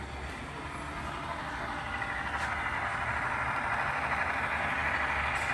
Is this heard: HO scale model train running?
yes